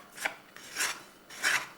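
Bread dough is scraped off the sides of a mixing bowl in three slow, raspy strokes, each a soft swish heard up close with short pauses between.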